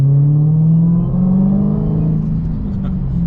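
A Dodge Challenger Hellcat engine drones steadily while driving, a loud, close, low hum that swells slightly as the car accelerates, with no talk over it.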